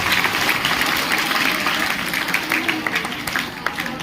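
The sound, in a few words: applause from students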